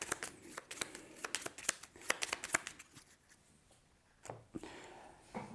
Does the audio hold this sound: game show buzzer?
no